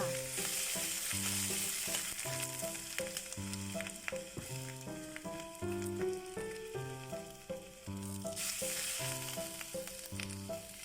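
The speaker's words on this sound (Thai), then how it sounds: "ผัดเส้นไปมา ให้เส้นไม่ก่อกันเป็นก้อนๆนนะคะ แล้วก็ ใส่ซอสถั่วเหลืองลงไปเพิ่มความหอมค่ะ" Noodles stir-fried over high heat in a pan with soy sauce, a steady close sizzle and hiss running throughout beneath prominent background music.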